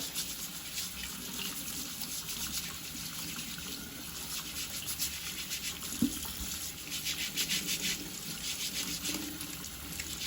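Potatoes washed under a running kitchen tap, a steady close hiss of flowing water with soft splashing and occasional handling sounds, no talk.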